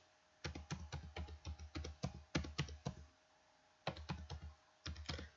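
Rapid typing on a computer keyboard while entering bank account and account-holder details into an order form, with bursts of close, crisp key clicks separated by a short pause, and no talking.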